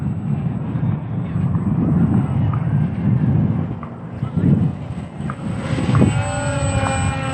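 An ESKY Sparrow RC biplane with twin motors flies overhead, a steady buzzing motor drone with wind noise that rises in pitch toward the end.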